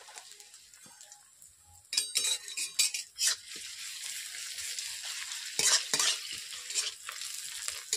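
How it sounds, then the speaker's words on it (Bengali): Onions dropped into hot oil in a wok, starting as a quiet hiss that jumps into louder crackling sizzle with metal spatula clinks and stirring scrapes. "এর মধ্যে আমি দিয়ে দিচ্ছি পেঁয়াজ।"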